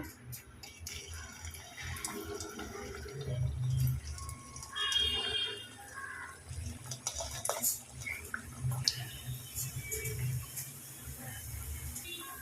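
Homemade biscuits are slipped one by one into hot oil in a wok, giving a low bubbling fry with scattered clinks and scrapes of a utensil against the pan, fairly quiet and close.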